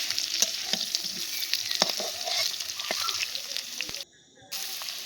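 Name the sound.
stirring frying ingredients for rohu fish curry in pan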